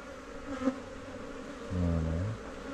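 Honeybees buzz steadily around an open hive at a teaching apiary during the colonies' first opening, a dense droning hum with a louder, closer buzz swelling near the end.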